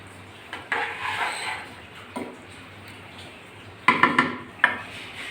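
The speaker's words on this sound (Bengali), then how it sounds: "আমি এখন একটা প্লেটে আর গামলিতে তুলে নিচ্ছি।" Cooked pabda fish curry with jackfruit seeds and potatoes is served from the pot onto a plate and into a bowl: a few sharp utensil clinks and knocks against the dishware, near, over quiet room noise.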